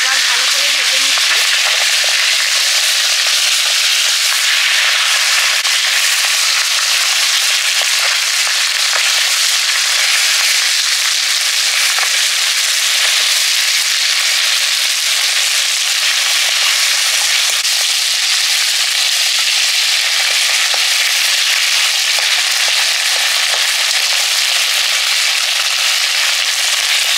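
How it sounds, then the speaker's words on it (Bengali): Fish heads frying in hot oil, a loud continuous crackling sizzle with dense popping spatters that holds steady throughout, close by and without any voices. "একদিকে মাছের মুড়োগুলো ভেজে নিচ্ছি"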